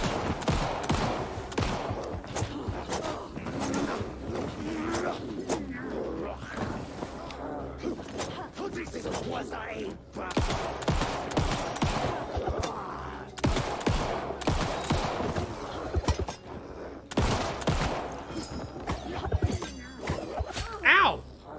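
Scattered gunshots ring out in the survival horror game Alan Wake 2, sharp cracks spaced irregularly across the stretch amid combat noise, with a person talking throughout.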